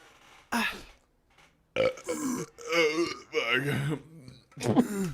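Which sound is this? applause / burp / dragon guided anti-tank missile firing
burp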